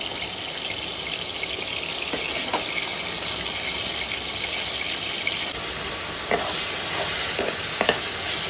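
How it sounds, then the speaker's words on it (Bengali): Marinated chicken fries over high flame in hot oil, a dense, steady sizzle close by with occasional faint stirring clinks throughout. "হাই ফ্লেমে মাংসটা একটু ভেজে নিচ্ছি।"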